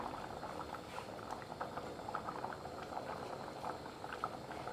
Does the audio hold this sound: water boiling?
yes